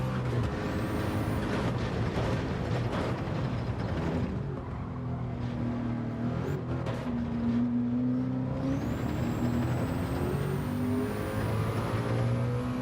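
The hybrid Porsche race car in Gran Turismo 7 runs with a sustained engine drone, its pitch climbing and falling through gear changes, plus a high electric-style whine that rises near the end, steady and fairly loud throughout.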